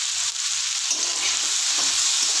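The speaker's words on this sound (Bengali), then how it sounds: "সবজিগুলো ভাজার সময় নুনের সঙ্গে অল্প একটু হলুদও অ্যাড করে দিচ্ছি" Vegetables fry with salt and turmeric in a pan, giving a steady bright sizzle with soft scraping stirs from a utensil, fairly close and without talk.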